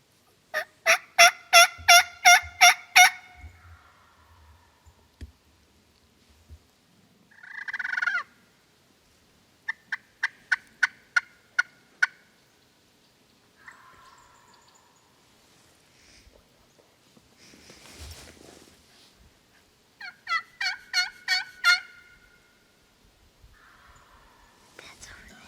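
Wild turkey gobbling during a youth turkey hunt, several separate rattling gobble series spread through the clip with quiet stretches between them, clear and fairly close, with soft whispered voices in the gaps.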